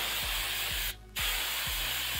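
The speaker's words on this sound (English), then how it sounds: "You take some hairspray" Hairspray hisses from an aerosol can onto a wig in two short bursts separated by a brief gap, close and fairly loud.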